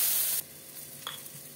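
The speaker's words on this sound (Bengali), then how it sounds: "দিয়ে এবার ভালো করে ভাজবো।" Spiny gourd (kakrol) pieces seasoned with turmeric and salt frying in a pan, a quiet sizzle that starts hissing strongly and then settles to a softer crackle, with a couple of faint utensil touches.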